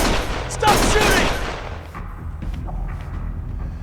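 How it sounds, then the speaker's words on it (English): Gunfire erupts in the video game Lost Judgment, a loud close burst of rapid shots followed by scattered fainter pops and booms fading out. "Stop shooting!"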